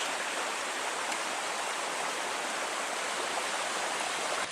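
Water of Tinstone Creek near Waratah runs steadily over rocks in a constant broadband rush. It sounds close and fairly loud, with no breaks and no voices.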